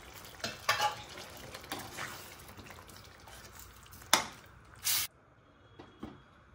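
Paneer fries and is stirred in a yogurt masala with ginger, garlic, chilli and onion, a soft sizzle under sharp scraping strokes of a spoon against the pan and a couple of clanks.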